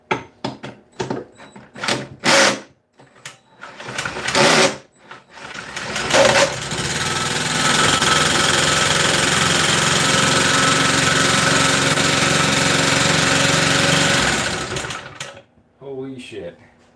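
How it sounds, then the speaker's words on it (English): A smoky blower engine revives after not running at all: sputtering, uneven bursts as it catches, then a loud, steady mechanical drone for about eight seconds before it cuts out, with people talking over it. "Hey, that's dramatically better than we had before, because this blower was not running at all."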